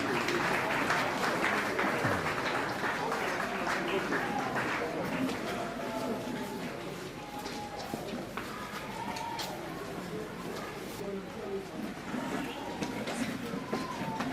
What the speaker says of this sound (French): Sous vos applaudissements, bien sûr, pour accueillir l'autorité.